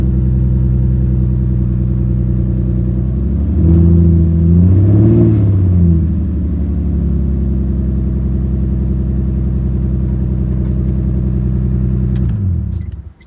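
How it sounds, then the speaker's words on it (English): A Nissan G35 with a VQ engine and worn spark plugs idles roughly, then is revved in a swell and settles back to a loud, close, uneven idle, with no talk. "let's give it some gas."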